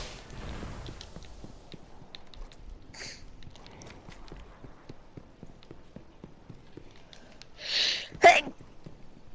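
A short, sharp sneeze bursts out near the end, just after a quick intake of breath, over a quiet backdrop of soft clicks and faint movement.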